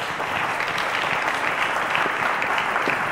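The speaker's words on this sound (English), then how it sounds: "Let's give them a round of applause, guys." A studio audience at a televised quiz show claps loudly and continuously, dense applause filling the whole moment without a break.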